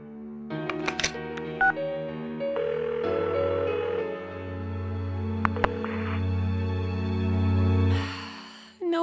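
Telephone dialing in the video game Persona 4: a quick run of keypad tones over a low electronic hum, followed by steady ringing tones, with no one speaking.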